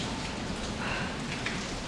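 Steady rain falls in Montenegro, a dense, even hiss of drops pattering on surfaces close by with no voices.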